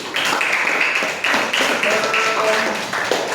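A school audience claps in a brisk, uneven burst of hand claps, fairly close and loud throughout, with a few distinct slaps standing out from the crowd.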